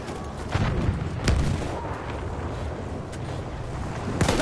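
Tank fire and explosions in a first-person video game produce several heavy booms and sharp blasts over a constant rumbling battle din.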